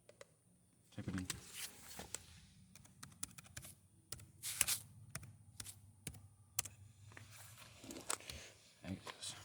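Rapid keyboard typing in a Chevy Sonic cabin during a WOT box install, clicky keystrokes in irregular bursts over a low engine-like hum, with a voice talking in between.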